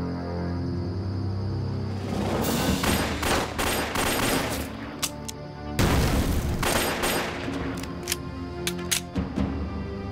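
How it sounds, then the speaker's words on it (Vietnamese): Battle gunfire in an anti-Japanese war action film, scattered volleys of rifle and machine-gun shots with sharp cracks and a dull boom, bursts coming in clusters with brief gaps, fairly close and steady throughout. "Đội trưởng Du bắn hay lắm, bắn hay lắm"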